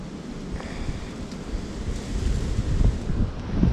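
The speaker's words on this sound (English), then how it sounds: "It's a cold wind." A cold winter wind buffets the microphone beside the water during bass fishing, a steady low rumbling roar with gusts that swell louder toward the end, and no one speaking.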